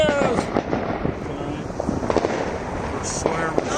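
Fireworks explode at night in a crackling series of pops and bangs, with whistling trails rising between bursts and people cheering faintly among them.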